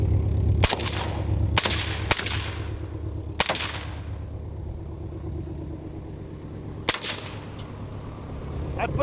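An AR-15 rifle fires five 5.56 full metal jacket rounds at a car, each a sharp, loud crack at uneven intervals, with a low rumble between the shots.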